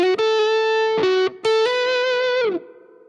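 Electric guitar with tremolo and effects plays a riff, a short run of bright sustained notes with a couple of quick stops, ending on a bending note that fades.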